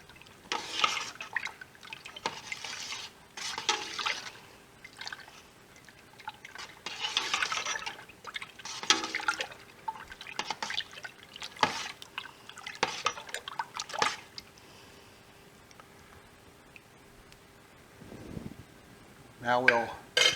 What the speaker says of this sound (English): And stir that in not more than a minute.